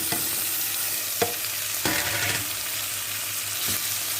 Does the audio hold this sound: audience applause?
no